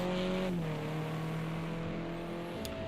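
A touring car in a racing video game circles Snetterton at low revs, its engine note droning steadily, dipping briefly as it rolls off and then holding an even pitch, with no talk over it.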